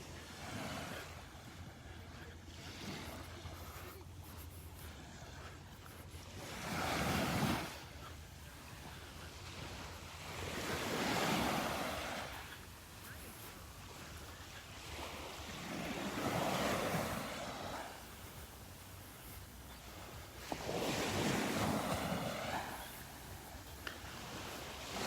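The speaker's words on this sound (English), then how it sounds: "Just some little waves rolling in here." Small waves roll onto a beach at Delnor-Wiggins on a calm morning, each soft surge swelling and washing out about every five seconds, with faint wind noise between them.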